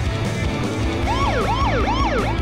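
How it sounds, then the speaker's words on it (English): A police siren wails from the chase sedan in The Simpsons: Hit & Run, its pitch rising and falling in repeated sweeps that come in loud over steady engine and road noise. "Oh, the chase sedan has the police siren as well."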